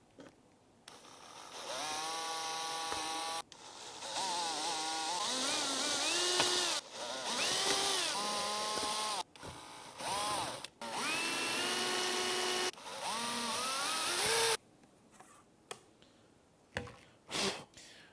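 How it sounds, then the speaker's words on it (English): A drill fitted with a 3/16 bit bores into the door of a slot car box, whining in repeated runs that rise and fall in pitch as the speed changes, with short pauses between them. "we're going to take a 3/16 drill bit and drill into the door to make room for our 1024"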